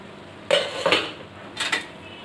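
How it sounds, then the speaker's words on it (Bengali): A metal lid is lifted off a cooking pot holding a pumpkin chutney, giving two clustered clanks, a pause, then two more rattling knocks, close against a quiet background. "ঢাকনাটাকে তুলে নিচ্ছি।"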